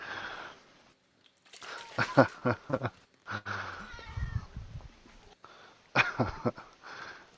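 A house cat meows several times up close, in short separate cries with quiet gaps between, during a sim-racing league stream.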